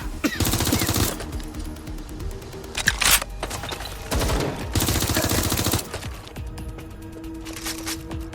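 Gunfire in the video game Watch Dogs Legion comes as loud bursts of rapid automatic shots broken by short pauses, with single sharp cracks between the volleys.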